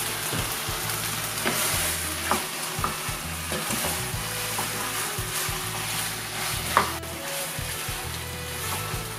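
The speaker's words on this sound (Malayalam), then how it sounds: "നമുക്ക് ചിക്കൻ ഇടയ്ക്കൊന്ന് ഇളക്കി കൊടുക്കണം" Chicken and tomatoes frying in a pan for Thalassery chicken biryani, a constant close sizzle with intermittent scraping and clacking of a spoon as the mixture is stirred, no voices.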